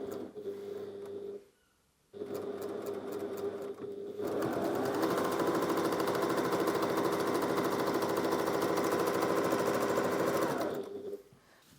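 A Janome HD9 Professional sewing machine stitches through thick fabric at its slower speed, giving a loud, steady mechanical chatter that runs for several seconds after a short pause and a few starting stitches, then stops.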